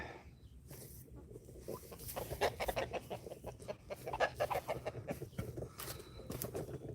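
Chickens and roosters cluck continuously in a backyard coop, a dense, busy chatter of overlapping calls and scratchy patters at moderate distance, with no voices.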